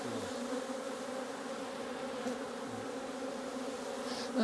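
A low, continuous hum of many honey bees, worker and nurse bees from a long hive colony, buzzing together, steady and close, with no talking.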